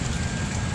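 Rain falls on a 4000-gallon salt pond after a big storm, a dense, even patter and hiss spread across the water surface, steady and fairly close with no talking.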